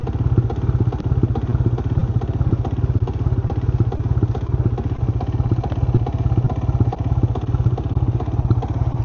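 Close, loud idle of a Yamaha LC135 motorcycle engine, an evenly pulsing chug with metallic clatter and light crackle continuing steadily, no voices over it.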